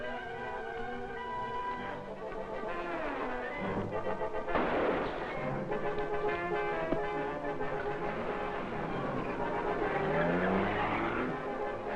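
An old-time radio serial sound effect of a car fleeing from an alley: a busy, loud mix of engine roar, squealing tires and sharp gunshot-like bangs runs continuously under dramatic tonal backing.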